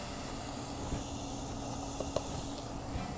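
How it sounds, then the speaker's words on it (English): Garlic, onions and red peppers sizzle in hot grease in a pan, a steady broad hiss with a few faint pops and clicks, close and fairly quiet, with no talking. "You hear that sizzle? That tells me I know that that grease was hot enough."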